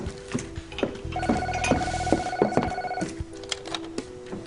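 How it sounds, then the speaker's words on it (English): An indoor telephone in a television soap opera scene rings with a steady electronic warble lasting about two seconds, set among light room noise and soft knocks, with no voices over it. "Hey, Diana, will you do me a favor and get that phone?"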